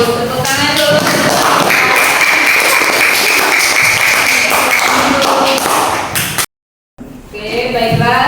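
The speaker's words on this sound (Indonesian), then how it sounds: "Tepuk tangan dulu." Children in a classroom clap together after a lesson on making eco-enzyme from organic materials, a dense burst of hand claps lasting several seconds, then a brief silence and more clapping.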